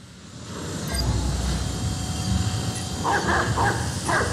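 A dog barking and yipping in the video game Watch Dogs 2, repeated close barks over a steady game background hum.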